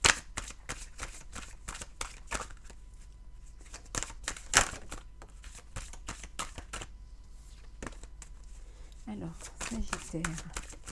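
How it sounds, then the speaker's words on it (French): Tarot cards are shuffled in a string of quick, crisp riffling clicks close by, with a voice talking alongside. "On va voir un petit peu."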